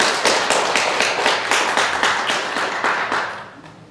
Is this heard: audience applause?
yes